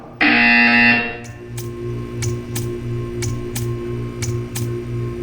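A buzzer in the video game Portal 2 opens with one loud, sustained electronic tone, followed by a steady train of sharp, evenly spaced ticks over a low mechanical hum.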